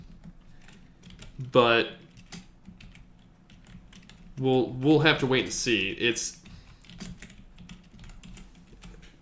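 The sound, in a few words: typing on a computer keyboard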